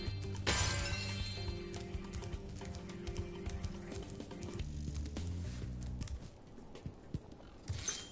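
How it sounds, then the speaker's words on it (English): Glass-like objects shatter in the video game Spyro Reignited, a series of crisp breaking and crashing bursts with scattered clattering debris, heard alone over about eight seconds. "They break like glass."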